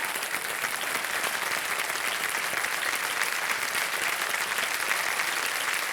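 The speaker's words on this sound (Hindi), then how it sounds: "तालियां बज जाए इनके लिए।" Studio audience on the KBC game show breaks into sustained, dense applause, a steady wall of clapping at even loudness with no voices over it.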